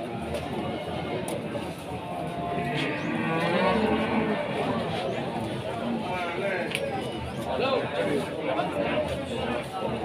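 Limousin cattle at a busy market in Tuban low and moo amid a steady hubbub of chattering people, the animal calls blending into the continuous crowd noise.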